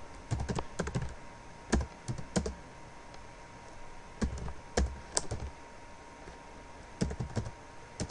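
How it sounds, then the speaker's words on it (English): Fingers tap out a song search on a computer keyboard, with quick clusters of close key clicks separated by brief pauses and no voices. "I'll just type in a song here."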